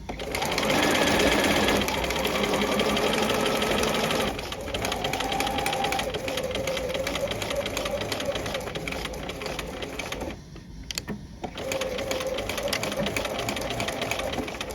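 A sewing machine runs steadily, stitching a welt pocket seam at 2.5 stitch length, loud and close for most of the run with a brief pause near the end before it resumes.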